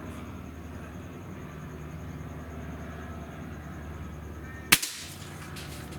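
A Gamo Swarm Bone Collector Gen 2 air rifle fires one sharp, close crack near the end. Before it there is a steady hum of outdoor background noise, and no one speaks.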